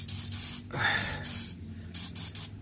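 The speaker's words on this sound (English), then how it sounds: "I would definitely spray the fronts of these before you tackle it" Short hissing bursts of PB Blaster penetrating oil sprayed from an aerosol can onto a Ford Explorer's front wheel bearing hub bolts, several quick squirts close by with brief pauses between them.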